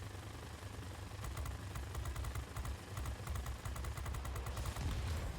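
Machine guns fire from a Mustang I fighter in the World of Warplanes game: several rapid bursts of clattering shots ride over a continuous engine drone, fairly close and loud, with no speech.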